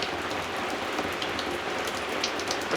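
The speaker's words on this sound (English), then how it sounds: "It's raining harder than I'd like it to rain when I go to town." Steady rain falls outdoors at an off-grid wilderness homestead, a dense, even hiss of drops striking surfaces that holds constant throughout, close and moderately loud, with no voices.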